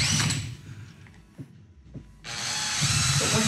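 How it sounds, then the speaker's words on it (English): A 12 mm step bit drills holes in RBL Christmas light housings, a short whirring buzz, a brief drop to near quiet, then a louder sustained grinding whine close by. "You're going to take your 12 millimeter step bit and just drill 6 holes."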